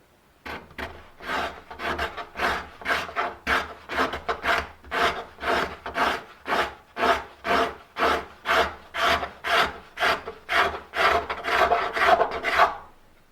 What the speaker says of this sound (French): il faut trouver l'angle le plus efficace pour lever les copeaux